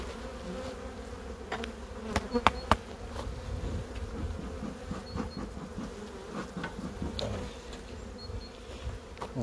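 Honeybees buzz steadily around an apiary hive that holds drones, a dense, even hum with individual insects passing close now and then and no talk.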